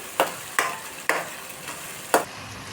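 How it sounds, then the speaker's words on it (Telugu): A spoon stirs onion and cashew paste frying in a pan for a potato and eggplant masala curry, giving four sharp scraping strokes spaced unevenly over a faint steady sizzle. "ఉల్లిపాయ, జీడిపప్పు పేస్ట్ అనేది కూడా కొంచెం పచ్చివాసన పోయేంత వరకు కూడాను అలా తిప్పుకుంటూ ఉండాలండి"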